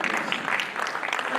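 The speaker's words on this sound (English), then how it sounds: "I think she deserves another round of applause." Members at an annual general meeting in Umuahia applaud, a soft, fairly distant patter of many hands clapping that continues evenly without speech.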